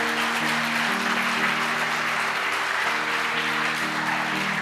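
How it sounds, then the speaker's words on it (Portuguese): A church congregation applauds during a Sunday evening service, sustained clapping filling the room at an even level with a faint held tone underneath. "Dá uma salva de palmas para o Senhor."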